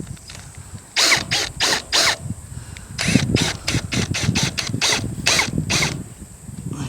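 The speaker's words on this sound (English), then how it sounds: "They just keep spinning, these pop rivets." Pop rivets are set into an insulated Solar Span roof panel, producing rapid runs of loud mechanical ratcheting and whirring bursts in a choppy, repeating rhythm close to the listener.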